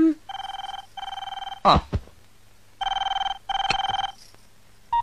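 A telephone rings in bursts of bright, buzzing electronic trills, two pairs of rings separated by brief pauses, with a couple of sharp knocks or clatters between them.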